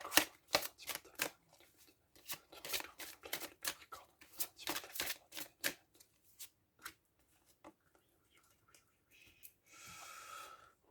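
Tarot cards are shuffled by hand in close, crisp bursts of riffling and flicking that come in irregular clusters and then thin out into sparse taps, with a brief soft rustle near the end.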